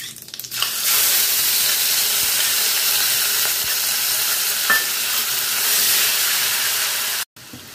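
Chopped onion drops into hot oil already seasoned with dried red chilli and cumin, setting off a loud, steady sizzle and hiss that carries on evenly for several seconds before cutting off abruptly near the end.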